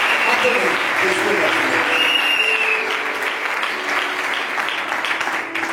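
Sustained applause from a church congregation, dense and steady throughout with some cheering mixed in, filling the room at full level before easing slightly at the end.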